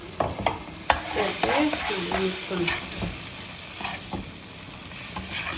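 Vegetable kootu with coconut paste is stirred in a pot, soft scraping and knocking strokes over a low simmering sizzle, close, with faint voice murmurs underneath.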